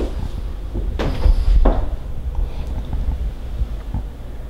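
A single interior door swings shut with a soft thump inside a house's bedroom, close by and alone, against a quiet room tone.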